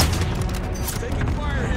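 Loud, continuous gunfire from the Warzone video game rattles for a couple of seconds, with overlapping shots and faint chatter mixed in.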